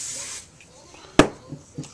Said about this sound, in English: Then I'm going to spray it up